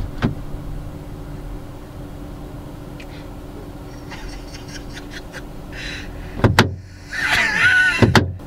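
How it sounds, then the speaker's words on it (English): A car's door locks engage with a sharp mechanical clunk near the start and again later, among faint interior rustling and a brief whirring motor, close and fairly loud in a quiet cabin. "I'm going to lock the door and see what she thinks."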